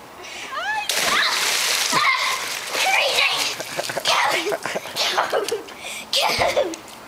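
Boys jumping into a cold outdoor pool make a sharp splash, followed by splattering water, sloshing and children's excited shouts and giggles close by.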